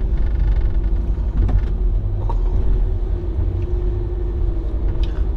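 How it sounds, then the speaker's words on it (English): A grain truck semi drives close behind on a country road, its deep engine rumble loud, steady and continuous, blended with road and wind noise. "We've got a grain truck right up our bum, so we're going to have a semi on here with us."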